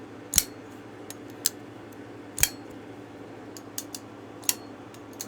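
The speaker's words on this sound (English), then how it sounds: "gives you a nice positive click when it's opened" A button lock EDC knife on bearings snaps open and shut, giving several sharp, crisp metallic clicks spaced a second or so apart over a quiet background hum.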